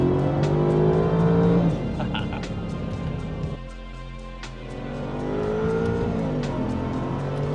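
A 2006 Mercedes-Benz SLR McLaren with side pipe exhaust accelerates, its engine note climbing through gears with loud, harmonic revving and shifts, heard from close inside the car while people talk.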